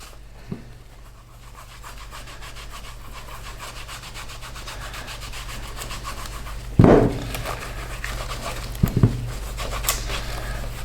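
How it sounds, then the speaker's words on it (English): Snow Seal wax is rubbed onto a leather sheath, producing faint, close soft rubbing and scraping strokes, with a few louder brushing bursts, over a low steady hum. "grab my Snow Seal again, and I'll just put a light coat"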